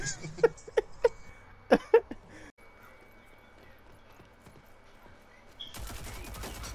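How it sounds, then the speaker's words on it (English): Gunfire in the shooter game Rogue Company: a handful of sharp, separate shots crack out in the first two seconds, followed by a quiet stretch and then a louder burst of noise near the end. "he's shooting guns for real"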